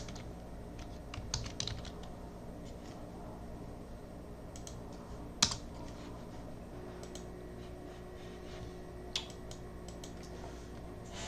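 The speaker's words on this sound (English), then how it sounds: "So now I'm going to type in the title of the first yield curve" Quiet, steady typing on a computer keyboard while entering data in an Excel spreadsheet, with soft key clicks in irregular bursts and a few louder taps over faint room hum.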